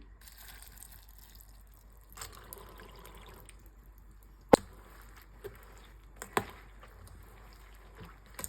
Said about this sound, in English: before I make this salad, I'm going to wash one more time.